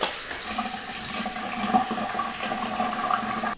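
Running water pours steadily from a tap at close range while a face mask is washed off, a continuous splashing rush with no talking.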